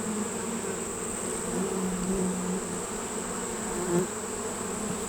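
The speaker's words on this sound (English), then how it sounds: "Getting more into the core of the brood nest. You can see those dark grayish yellow bees." Honey bees buzz steadily in the opened brood nest of a hive, a dense, continuous close hum with individual bees droning past, no voices.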